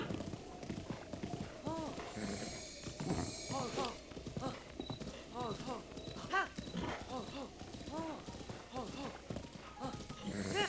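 Horse hooves clip-clop in a steady gait in The Legend of Zelda: Breath of the Wild as Zelda's horse is ridden, under someone talking nearly throughout, with game music and effects layered over the hoofbeats.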